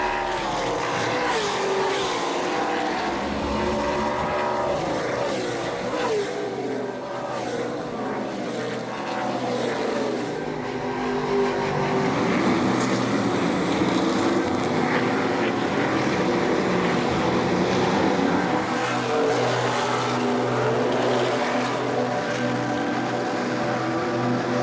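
A race car circling a circuit during a Grand Prix, driven gently to spare its brakes and the car itself, gives a steady, continuous engine drone with shifting pitch throughout.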